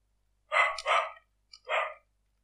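A dog gives a few sharp, close barks in quick succession, two rapid ones and then another after a short pause, with nothing else heard.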